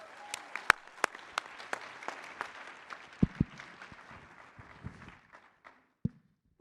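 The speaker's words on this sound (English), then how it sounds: "Let's get them started with a nice round of applause." Thin, scattered applause at a political summit, with a few loud nearby claps and thumps standing out, fading away toward the end.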